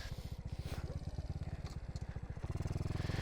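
A modified Honda C90 with a 170cc engine running rich puts along on a closed road, its single-cylinder exhaust beating in a rapid, uneven rhythm that quickens and thickens near the end.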